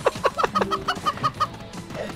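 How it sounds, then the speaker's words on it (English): Chickens cluck in the co-op video game Moving Out, a quick run of about eight close, rhythmic clucks followed by a few softer ones, with no voices. "Goodness, chicken."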